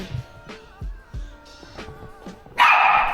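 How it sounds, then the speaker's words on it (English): A small puppy yips and barks in short, scattered bursts, mid-distance, followed by a louder, noisier clatter of movement at the end. "the puppy ran and barked"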